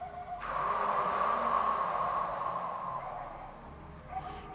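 A forceful, sustained exhale during Kundalini yoga breathing practice, close and steady for about four seconds as a breathy rush of air, with no talking.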